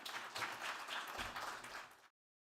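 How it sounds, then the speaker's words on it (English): Audience at a DePIN Day conference in Brussels claps after a talk, a dense patter of many hands lasting about two seconds before cutting off abruptly. "Round of applause."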